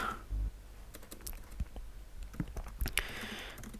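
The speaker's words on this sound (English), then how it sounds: "So if I can actually type, fine." Short bursts of keystrokes on a computer keyboard, close and fairly quiet, with irregular clicks and a brief flurry near the end, no talking.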